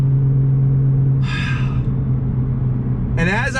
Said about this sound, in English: I love the sound from that custom exhaust